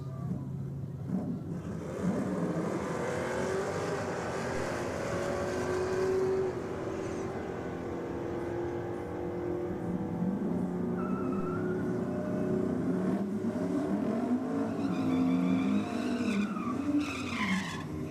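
Early and late Ford Mustangs roar down a drag strip, engines howling loud and sustained with rising and falling pitch, tyre noise mixed in as the cars pass.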